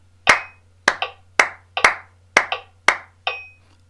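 Close, dry hand claps in a music lesson, eight sharp claps with a slight ringing tail, grouped unevenly as a triplet figure and then a rest, alone against a faint low hum.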